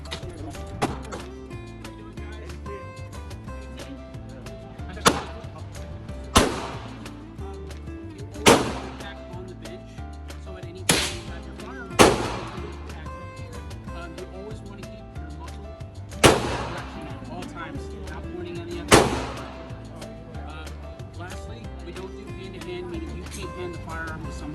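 Gunshots from firearms on a shooting day in Texas: about eight sharp cracks spaced irregularly over some twenty seconds, rising above faint talk and background music.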